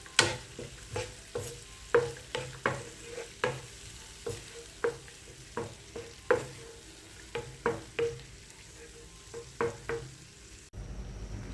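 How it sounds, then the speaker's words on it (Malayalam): Honey garlic chicken frying in a pan gives off a quiet continuous sizzle, broken by a regular series of sharp scraping stirs about every half second, then a brief surge as water hits the hot pan at the end. "കുറച്ച് വെള്ളം ഒഴിച്ച് കൊടുക്കുക."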